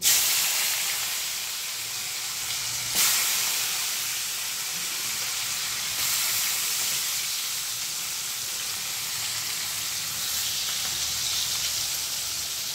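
Potatoes frying in hot oil seasoned with turmeric and asafoetida, a steady loud sizzle and hiss throughout with a few brief bursts where the spluttering flares up.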